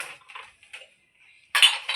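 Household utensils and dishes are picked up during home cleaning, giving a few light metallic clinks and taps, then a louder clatter of pieces knocking together near the end.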